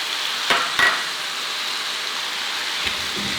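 Pork ear and intestines for dinuguan hissing in a hot pan as fish sauce is poured in, a steady broad sizzle broken by a few sharp clinks of utensils against the pan.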